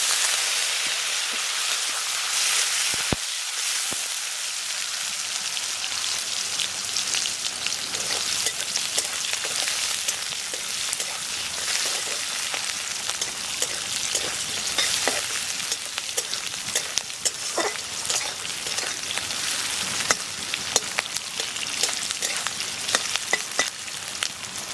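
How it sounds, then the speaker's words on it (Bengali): Chopped onions fry steadily in hot oil with black cumin seeds and a split dried red chili, a dense, close, continuous sizzle and crackle with occasional sharper pops, running unbroken with no talking. "পেঁয়াজগুলোকে ভেজে নিলাম এভাবে"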